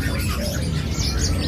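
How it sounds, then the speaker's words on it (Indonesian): Bright, quick chirps from a tame songbird at a market bird kiosk cut through a constant, crowded wash of background noise and other bird calls, close and fairly loud. "Ini burung jinak."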